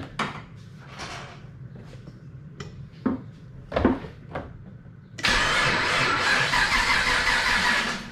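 An L98 engine in a Nissan Patrol build cranks in several short, uneven bursts, then catches and settles into a loud, steady, close running roar.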